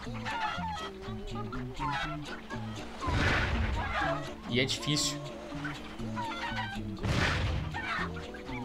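Chickens clucking in a Crash video game, rhythmic repeated clucks over game music with bursts of crashing effects, and someone talking throughout.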